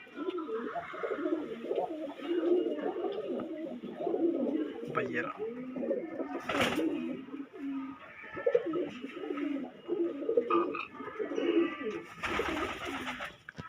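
Andhra-breed pigeons coo softly in repeated low, rolling phrases, close by and continuous beneath steady conversation between men, with a few sharp clatters near the end.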